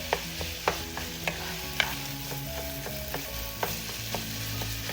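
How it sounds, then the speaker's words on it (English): Ground pork being chopped up with a utensil as it fries in a pan for Filipino picadillo, a steady sizzle with repeated sharp taps against the pan at an uneven pace, close and clear. "So I'm using this chopping manner. That way I don't end up with big chunks of ground pork."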